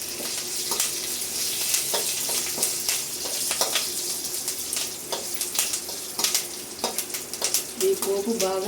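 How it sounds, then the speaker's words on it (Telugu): Cumin, dried red chillies and curry leaves temper in hot oil for a Telugu-style cucumber chutney, giving a steady close sizzle broken by sharp crackles and pops throughout, with no talk. "ఈ పోపు బాగా వేగనివ్వాలి."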